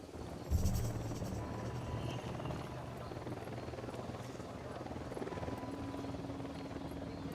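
An Unidad helicopter in Ghost Recon Wildlands approaches with a steady, droning rotor thrum that holds throughout, starting with a brief louder burst.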